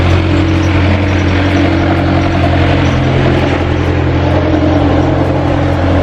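A jeep engine runs at a steady idle nearby, a loud continuous rumble with a low hum and no voices over it.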